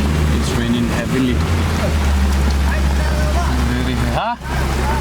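Heavy rain drums steadily on a moving car on a road in Kangpokpi, Manipur, a dense continuous hiss over low road and engine rumble, with a brief passing whoosh near the end and faint voices at times.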